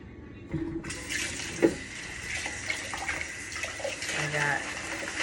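Tap water runs steadily into a kitchen sink while a handful of lettuce is rinsed for a green smoothie, a close continuous splashing rush with brief talk.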